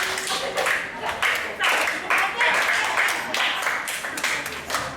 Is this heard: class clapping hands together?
yes